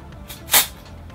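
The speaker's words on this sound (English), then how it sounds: "So just a bit of volume spray into the roots." A single short hiss of Batiste aerosol hair volume spray bursts out against a quiet background.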